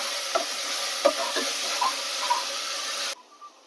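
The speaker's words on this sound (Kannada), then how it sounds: "ಶುಂಠಿ ಬೆಳ್ಳುಳ್ಳಿ ಪೇಸ್ಟ್ ಹಾಕೊತಾ ಇದ್ದೀನಿ ಇದನ್ನು ಚೆನ್ನಾಗಿ ಫ್ರೈ ಮಾಡ್ತೀನಿ" Sliced onions with ginger garlic paste sizzle and fry in a pan for keema, a steady close hiss with a few soft stirring scrapes before it cuts off abruptly near the end.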